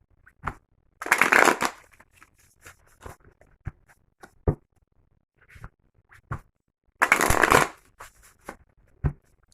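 A Deviant Moon tarot deck is shuffled close up in two loud riffling bursts, with soft taps and card handling in between in an otherwise quiet room.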